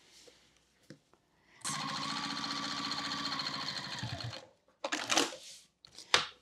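A sewing machine bastes a zipper pocket in place, running steadily for about three seconds with a dense, even mechanical whir, then stopping, followed by fabric rustling and handling noises.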